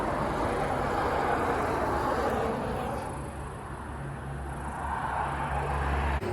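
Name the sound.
cars going by on a nearby highway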